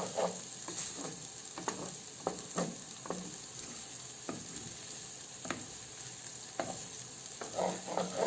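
Rice toasts in a pan for pilaf, sizzling softly while a spoon scrapes and knocks against the pan in irregular strokes. It is quiet and close, with no voices.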